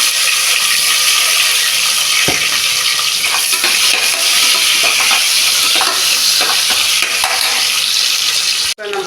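Tomatoes hiss loudly in hot oil with cinnamon and fennel for Karaikudi dum tomato rice, a constant close sizzle broken by the occasional scrape and knock of stirring in the pan, with no one talking.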